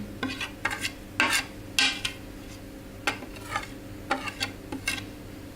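A spoon scrapes and clinks against a pan while masala spices are mixed into potatoes, giving irregular scraping strokes with soft, faint sizzling underneath and no voices.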